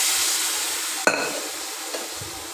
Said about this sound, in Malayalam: നല്ലവണ്ണം ഇളക്കി കൊടുക്കുക.